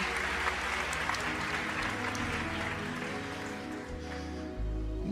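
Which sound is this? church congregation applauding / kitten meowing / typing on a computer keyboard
church congregation applauding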